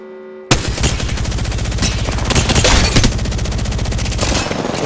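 Sustained rapid automatic gunfire in the video game Apex Legends bursts in after a brief quiet start, loud and close, with dense fast repeating shots continuing through to the end.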